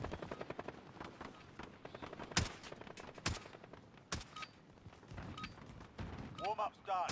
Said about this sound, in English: Who's shooting over there?